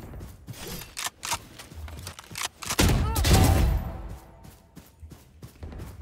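Rapid bursts of gunfire in the tactical shooter game Valorant, sharp clustered shots across the clip with a denser, louder volley near the middle, plus mechanical clicks between bursts.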